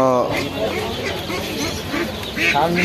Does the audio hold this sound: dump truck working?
no